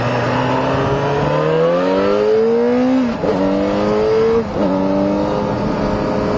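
Yamaha XJ6 motorcycle with a retuned four-cylinder R6 engine and gearbox pulling hard from low revs. The engine note climbs in pitch, drops briefly at two quick gear changes, then rises again, loud and close with no talking.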